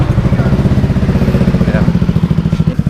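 A Yamaha NMAX 155 scooter fitted with a Tridente aftermarket exhaust runs close by, giving a steady, loud pulsing idle with a rapid regular throb and no speech.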